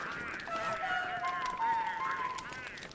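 Penguins in the video game Don't Starve make wavering, goose-like honking calls, with several overlapping honks over game background noise.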